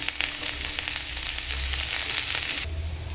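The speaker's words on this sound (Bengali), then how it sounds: "এবার আমি আদা দিয়ে দিচ্ছি, আদাটাও ভাজা ভাজা করে নেব" Ginger and garlic frying together in a pan for ghugni, a dense crackling sizzle up close with light stirring clicks, stopping abruptly near the end to leave a low hum.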